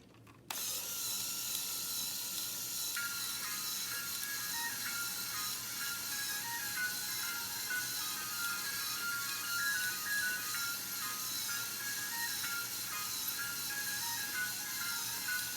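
A Lego 10196 Grand Carousel with power functions turning while its sound chip plays a steady tinkling melody, continuous and fairly quiet, with faint mechanical whir underneath and no talking.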